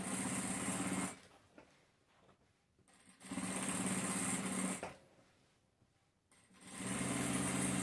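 A sewing machine stitches a fabric patchwork panel for a large scrap-fabric tote, running in three steady bursts separated by quieter pauses of handling.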